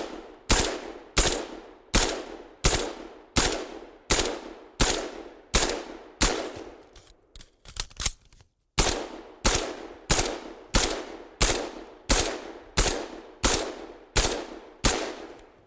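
Rifle fire on a range, twenty rounds fired at two targets with a magazine reload: loud, evenly spaced single shots about every 0.7 seconds, a short pause with handling clatter for the reload, then the steady string of shots resumes.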